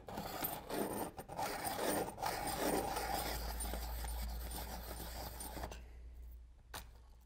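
Pencil being sharpened in a Creative Mark Multi-Point Sharpener, a close scraping, rasping grind with short pauses, then a low rumble before it stops and goes quiet.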